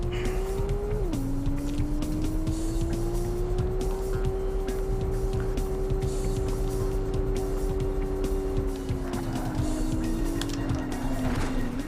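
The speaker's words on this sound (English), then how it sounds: "La Femme Nikita is going to try again to beat hairdressing woman in her pink Porsche into the dust." Cars racing in a PlayStation racing video game, including a pink Porsche, with a continuous loud engine drone that shifts pitch as gears change and the revs climb, plus brief tire squeals near the end and no talk.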